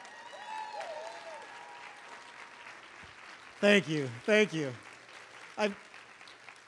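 Audience at a parent-teacher association convention stands and claps, a steady wash of applause for about three seconds, then it fades as someone speaks a few short phrases near the microphone.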